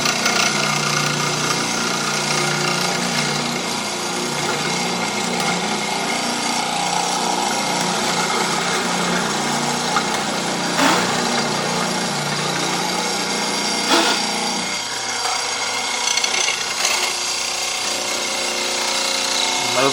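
A hollow chisel mortiser grinds steadily into wood to cut a square hole, a continuous close and fairly loud machine drone with a couple of brief knocks and a lower tone near the end.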